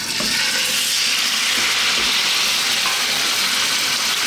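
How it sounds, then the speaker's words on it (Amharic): Chicken pieces fry in cooking oil in a pan or pot, giving a steady, loud, dense sizzle that runs unbroken throughout, with faint stirring scrapes and no talking. "ይሄን ዶሮ ለ5 ደቂቃ በደንብ አድርገን ከለር እስከሚሰጠን እንጠብሰዋለን።"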